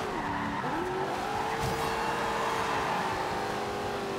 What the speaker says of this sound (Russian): Еще небольшой дрифт.